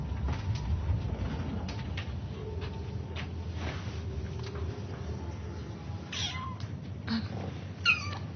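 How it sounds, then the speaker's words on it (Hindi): Several faint, high kitten-like meows come up near the end over a steady low background hum, with a soft bird coo in the mix. "बिल्ली के बच्चे"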